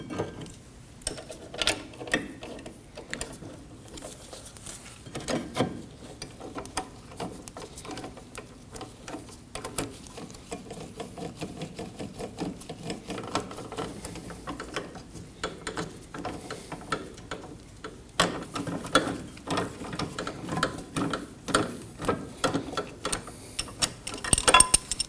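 A ratchet snugs down brake bracket bolts on a 2003-2006 Subaru Baja during rear wheel bearing and hub replacement. Quick, fairly quiet clicks come in uneven bursts, close by, with no talk.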